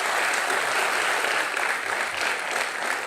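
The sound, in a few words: studio audience applause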